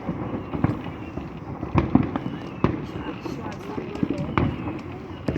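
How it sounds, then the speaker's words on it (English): Bonfire night fireworks going off in the distance, a series of irregular pops and cracks over steady outdoor rumble, with people talking in between. "There's some fireworks over there going off."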